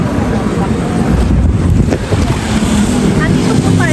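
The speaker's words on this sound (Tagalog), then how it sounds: "Sarap ng hangin." Strong typhoon wind buffets the microphone in a constant rumbling roar, with what sounds like water and a boat motor underneath and no clear speech.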